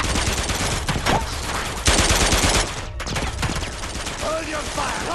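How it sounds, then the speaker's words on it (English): Dense automatic gunfire rattles from a cutscene in Uncharted 2, continuous bursts of rapid shots close and loud with a brief break, while a voice speaks over the shooting. "those were cutscene bullets"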